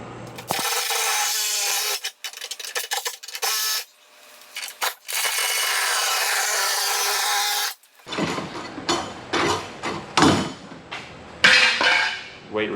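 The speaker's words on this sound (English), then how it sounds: "This Sawzall is nice." A Sawzall reciprocating saw cutting through a Ford Crown Vic's exhaust work, loud buzzing bursts that run steadily then stop and restart, followed by clanks and rattles of metal being handled.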